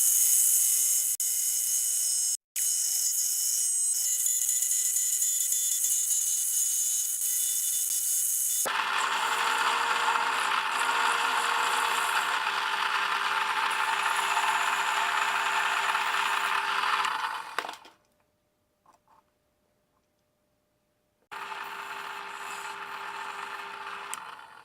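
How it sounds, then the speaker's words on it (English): A screw head is machined by hand without a lathe, turned down to fit a countersink for a DIY speargun line reel. A loud, continuous grinding and rattling whir starts and stops in bursts, with brief pauses and close, harsh metallic texture. "I'll start by turning the screw head so it fits inside this countersink."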